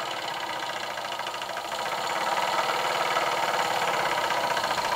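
Large scratch-built oscillator model steam engine running at speed, a steady rapid mechanical chuffing and knocking that grows slightly louder midway, with no voices.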